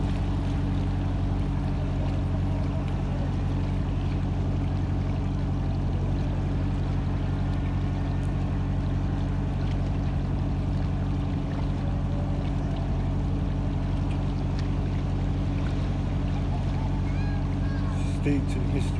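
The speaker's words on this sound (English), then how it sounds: "I'm here on my own boat." Motorboat engine on the River Ouse in York hums as a steady, even drone throughout, close and continuous with faint water wash beneath.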